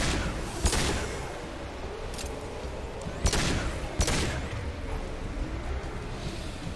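Sharp gunshots from the video game Mass Effect Legendary Edition crack out singly at irregular intervals, a few loud blasts over a steady rumble of combat ambience, with no speech.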